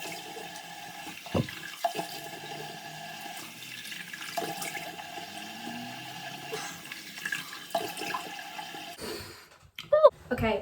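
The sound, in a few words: washing face with warm water at sink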